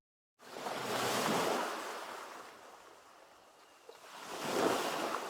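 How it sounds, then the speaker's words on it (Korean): Ocean waves on a quiet Gangwon coast below a cliff roll in two broad, soft surges, swelling and receding, with no voices. "파도 소리가"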